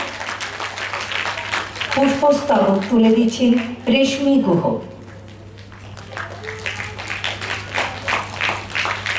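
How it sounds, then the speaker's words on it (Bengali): Audience applause at a felicitation ceremony on the Rabindra Sadan stage in Baharampur: scattered clapping rises after a stretch of music and continues under an announcer's amplified voice. "একটু জোর করতালি হয়ে যায়"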